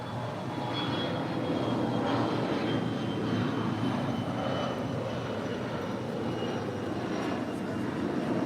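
An Air Canada Airbus A330-300 departs LAX bound for Toronto, its jet engines a steady, loud broadband roar with a thin high whine that holds throughout.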